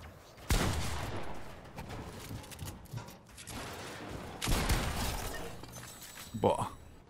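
Gunfire from a distant mountain position in an online shooter game, with sharp bursts near the start and again around the middle, plus crackling effects, under a player's talk.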